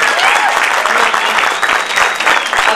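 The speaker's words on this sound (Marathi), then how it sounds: "आता तुमच्यासाठी मीच टाळ्या वाजवतो" Dense, steady applause fills the space at a Marathi folk cultural programme on farming, with many hands clapping at once and a faint murmur of crowd voices beneath.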